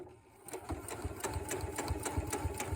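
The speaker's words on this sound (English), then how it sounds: "I'm at my sewing machine" A sewing machine stitches two pieces of quilt backing fabric along a crease line, a close, rhythmic mechanical chatter that starts slowly and settles into a steady fast pulse.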